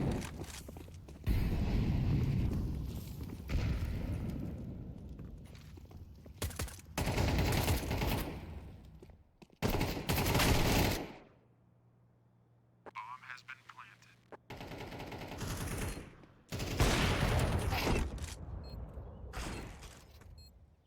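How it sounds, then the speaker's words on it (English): Gunfire in a Counter-Strike match: bursts of rapid shots and single cracks come in repeated loud clusters separated by quieter gaps, mixed with lively commentary talk throughout. "Nice shot by Robo, but the tripwire's already been set up by the Opera."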